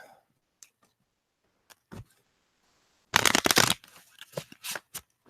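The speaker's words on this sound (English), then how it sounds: "the most important part is the shuffling" A deck of playing cards being shuffled, heard up close as a dense burst of riffling followed by a few sharper taps and snaps, with quiet gaps and faint clicks beforehand.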